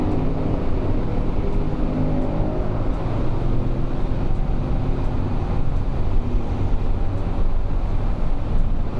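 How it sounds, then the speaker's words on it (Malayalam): A motorcycle ridden through the Al Rawgh tunnel on a Dubai to Oman trip, its exhaust a loud, continuous low roar mixed with wind rush that holds steady and close throughout. "എക്സോസ്റ്റ് സൗണ്ടുകൾ മുതലാക്കാനുള്ള ഏരിയയാണ്."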